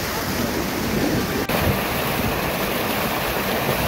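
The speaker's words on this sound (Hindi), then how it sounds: "तो ऊपर हिमालय से पानी आ रहा है" Glacial meltwater from the Himalaya rushes down from the Pindari Glacier in a steady, loud, dense broadband roar that stays constant throughout, with a brief dip partway through and some wind on the microphone.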